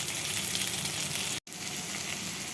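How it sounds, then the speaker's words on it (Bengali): Pointed gourd (potol) frying in hot oil, likely the same oil used for shrimp, gives a steady, close hiss with a brief gap partway through. "এরপর ওই তেলের মধ্যেই আমি পটলগুলো ভেজে নিচ্ছি।"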